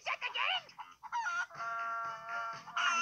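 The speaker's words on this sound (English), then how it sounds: "And you have stolen Rolf's chicken shit again?" A cartoon chicken clucks and squawks in excited bursts with wavering, tonal calls that rise and fall, steady and close, with no pause between them.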